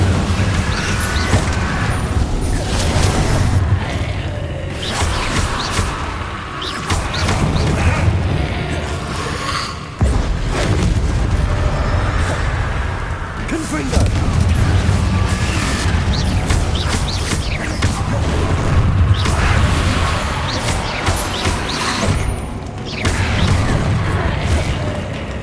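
Incendio fire spell cast repeatedly in the video game Hogwarts Legacy, a series of loud whooshing bursts and booms in a dense, rhythmic pattern amid ongoing combat noise.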